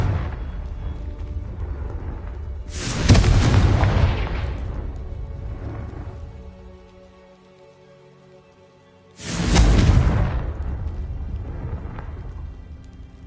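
Two loud blasts from the Confringo spell in Hogwarts Legacy, each a sharp burst that rolls into a long fading rumble, spaced several seconds apart with quiet between them.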